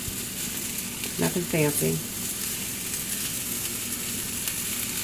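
Large raw shrimp laid into a hot paella pan give a steady sizzle and frying hiss under a brief line of speech from a person nearby.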